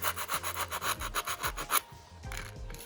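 A motorcycle disc brake pad rubbed clean against a rough surface, a steady run of rapid rasping back-and-forth strokes, then slower, softer scrapes, close and loud with no talking.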